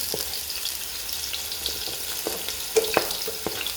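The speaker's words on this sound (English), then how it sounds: "To that I'm adding my garlic, spring onions, and allowing this to stir fry, plus carrots." Garlic, spring onions and carrots stir-frying in about a tablespoon of oil make a steady, fairly loud close sizzle, with a few faint clicks and scrapes of stirring rising above it.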